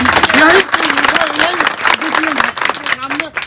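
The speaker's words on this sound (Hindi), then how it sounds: "ये बोल रहे हैं आत्महत्या करेंगे और आप लोग ताली बजा रहे हैं।" A crowd gathered at an ambulance drivers' strike protest in Bettiah claps in steady scattered applause, continuous and fairly loud, with voices talking over it throughout.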